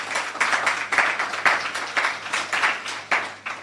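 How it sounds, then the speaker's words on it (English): An audience claps at a government scholarship launch event in Jamaica, a fairly close, loud patter of many hands with uneven bursts and dips throughout a few seconds. "We need to clap for that."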